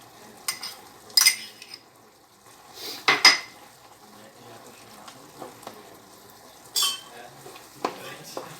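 Butter being stirred into risotto in a pan: a few distinct scrapes and clanks of a spoon against the pan, spaced out with quiet gaps between them, close by, with a faint background hum.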